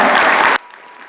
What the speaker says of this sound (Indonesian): Kita berikan tepuk tangan dulu buat narasumber kita.